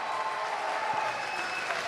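A crowd at the Shaw Classic strongman log lift event applauds and cheers for Brian Shaw, a dense, steady wash of clapping that fills the whole moment.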